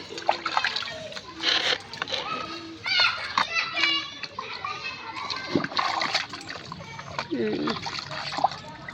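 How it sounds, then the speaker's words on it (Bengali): A cat being bathed splashes water in repeated uneven bursts, close and lively, with people talking and a voice over the splashing throughout. "পানি ছিটায়।"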